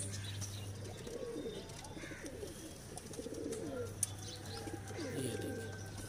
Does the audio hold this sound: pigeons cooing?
yes